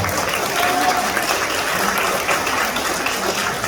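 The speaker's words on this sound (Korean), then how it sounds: "박수 부탁드립니다" Wedding guests at a Korean wedding applaud the ring exchange, a loud, continuous crowd of clapping that holds steady throughout.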